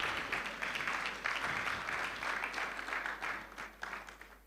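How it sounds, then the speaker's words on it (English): A conference audience at an agriculture event claps in uneven, bursty waves; the applause is faint and distant and fades toward the close. "Another round of applause for her,"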